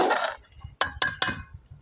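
A metal lid is set onto a cooking pot of rice, giving three sharp clinks in quick succession after a brief rustle, close and fairly quiet, with no talking.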